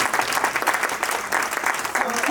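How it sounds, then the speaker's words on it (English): An audience at a conference claps steadily and fairly loudly for a judge in a brief burst of dense applause. "Give her a clap for that."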